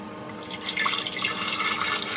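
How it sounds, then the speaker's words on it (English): Water pours from a container into a camping coffee maker, a close, bubbling splash that swells after a quiet start and keeps trickling steadily. "you're gonna pour your water down into this part"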